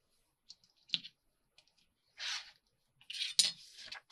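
Scissors snip through card paper in a few short, crisp cuts close by, separated by quiet pauses, then a longer crunchy cut and a final cluster of snips near the end.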